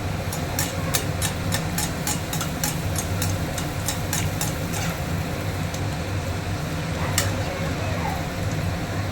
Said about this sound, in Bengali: দেখুন, আমি এটা এবার তেলের মধ্যে দিলাম।